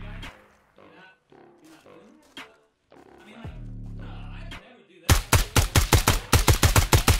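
Rapid automatic gunfire from a rifle in the tactical shooter Ground Branch, a tight burst of about a dozen sharp, loud shots near the end, preceded by scattered muffled game noises and a low droning tone.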